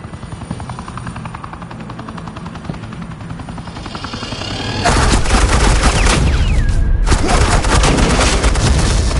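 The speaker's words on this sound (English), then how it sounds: "Suppressing fire." Suppressing gunfire in a Batman Telltale video game scene, loud sustained automatic fire and heavy booms over a helicopter drone that kicks in sharply midway, mostly without speech.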